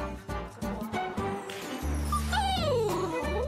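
A labradoodle dog whimpers and yips in short high cries, close and fairly loud, with a rising whine toward the end.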